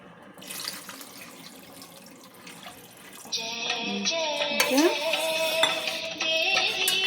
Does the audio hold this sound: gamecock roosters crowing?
no